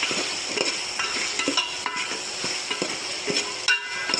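A spoon stirs and sautés a spiced mixture in a hot pan for bombil rice, giving a steady sizzle with irregular scraping knocks and clinks close by, and no voices.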